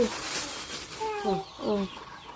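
Chickens clucking on a rural Thai farm, a few short rhythmic cluck bursts close by, with people talking nearby.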